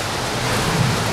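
Extreme heavy rain pours down during a dangerous thunderstorm line over Austria, a dense, steady hiss and roar that fills the whole moment without a break or voice.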